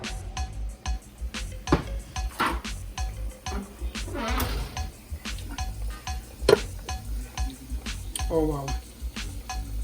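A pot holding oxtail is opened in a kitchen with clanks of lid and metal, light stirring and sizzling noises, and a person talking briefly over the clatter.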